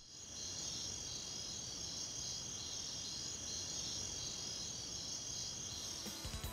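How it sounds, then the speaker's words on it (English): Cricket chirping in Bionicle: The Game, a continuous high shrill trill that is steady and close, running unbroken alone over a faint low rumble. "Did they seriously just slap a cricket on Pahatu's back?"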